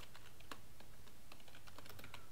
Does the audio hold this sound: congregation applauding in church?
no